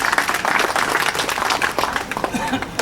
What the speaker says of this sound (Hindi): एक बार उनके लिए और तालियां बजाया जाए।